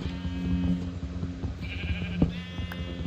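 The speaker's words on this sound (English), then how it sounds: "I see a lot of sheep" Minecraft sheep bleat in a game world, several wavering calls in a row at moderate loudness, heard alone without talk.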